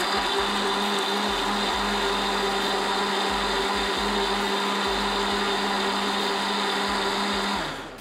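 Blender whirring steadily as it blends a smoothie, a loud continuous motor drone with a high whine running for about seven and a half seconds before cutting off near the end.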